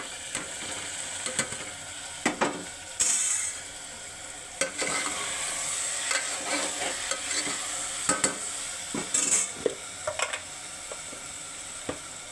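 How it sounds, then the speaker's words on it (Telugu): Fried ivy gourds being stirred into tomato gravy in a pan, with a spoon scraping and clinking through a soft sizzle in irregular strokes, close and fairly loud. "దొండకాయలు వేయించి పక్కన పెట్టుకున్నాం కదండి అవి ఇందులో వేసేసుకుందాం"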